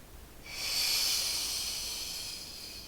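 A single long breathy inhale drawn in during a reformer Pilates exercise, starting after a brief pause and holding steady as a soft airy hiss, close and alone.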